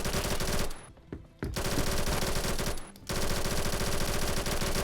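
Machine pistol in the shooter game Phantom Forces firing long rapid bursts, a dense, loud rattle of shots broken by two brief pauses, no voices.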